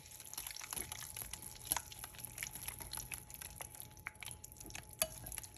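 Tzatziki's wet and dry ingredients are stirred together in a bowl, producing soft, continuous scraping and wet clicking up close, quiet and steady, with no talking.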